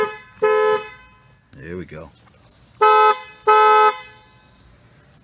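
A replacement horn on a Volkswagen MKV GTI honks three times, loud, flat-toned blasts, the last two close together, with someone speaking briefly between the first and second honk.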